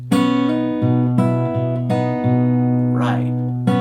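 An acoustic guitar part from a song is played up close, with alternating thumbed bass notes, pinched pairs of strings and hammer-ons in a steady rhythm, ringing clearly with no talk.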